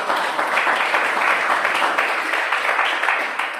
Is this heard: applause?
yes